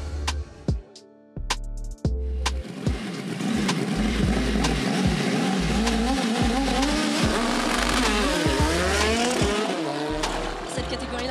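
Pro Stock drag racing motorcycles at a European dragster meet roar loudly, with sharp revving bursts and staccato engine blips early on, then a sustained, screaming full-throttle run that rises and sweeps in pitch, close and dominant.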